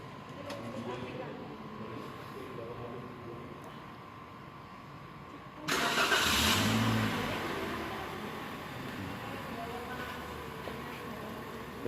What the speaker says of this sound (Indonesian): Kemudian kita nyalakan mesinnya.